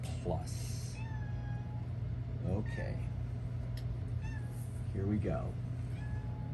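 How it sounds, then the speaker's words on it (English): A cat meows several times, close by, in drawn-out cries spaced a couple of seconds apart, while a person talks briefly over a steady low hum. "she's meowing at something that I can't see"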